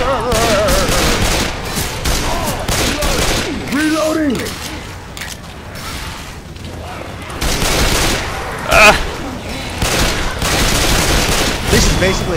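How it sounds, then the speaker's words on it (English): Sustained bursts of gunfire in Left 4 Dead 2, loud and continuous with brief lulls and sharp impacts, while players' voices talk over the shooting. "I'm shooting you."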